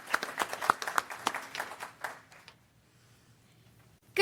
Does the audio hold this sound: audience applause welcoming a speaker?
yes